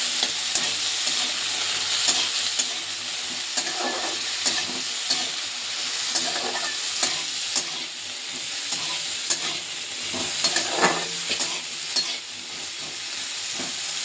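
Chopped potato sizzles steadily in a hot pan while being stirred, a continuous frying hiss broken by frequent scraping stir strokes throughout, close and loud, with no talking.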